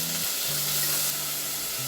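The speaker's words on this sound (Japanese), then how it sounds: "軽く混ぜながら炒めていきます。" Beef searing over medium heat in a waterless pot, a loud continuous sizzle up close with faint stirring, no speech.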